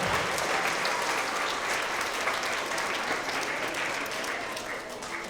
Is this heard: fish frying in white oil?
no